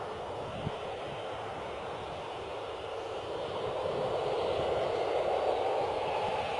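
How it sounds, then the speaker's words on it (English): A Jet2 airliner taxis into position at Bristol Airport, giving a steady broadband engine roar that builds gradually. It is heard from a distance with no talk over it. "That noise you can hear is the Jet 2 moving into position."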